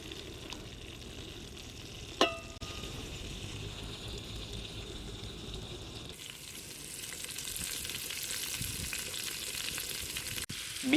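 A beef steak fries in a pan basted with hot butter, giving a steady crackling sizzle with a sharp clatter early on and a louder, brighter hiss in the second half.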